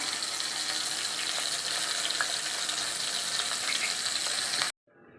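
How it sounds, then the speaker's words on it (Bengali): Bombay duck (lote fish) pieces fry in hot oil in a kadai over a medium gas flame, giving a loud, close, dense and steady sizzle that cuts off abruptly near the end. "মাছ কটা আমি ভেজে নিই"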